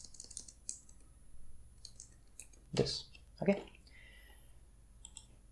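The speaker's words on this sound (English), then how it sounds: "excuse my typing" Soft clicking taps from typing on a computer keyboard come in scattered bursts, with a couple of louder clacks, while someone briefly speaks quietly nearby.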